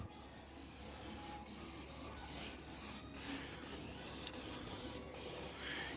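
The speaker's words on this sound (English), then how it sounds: "I just like to get some CRC and just spray it all on, and then let it sit, and then just wipe it" Steady hissing and rubbing as CRC is sprayed onto a motorcycle exhaust pipe and wiped down, a continuous close scraping texture with brief pauses between strokes.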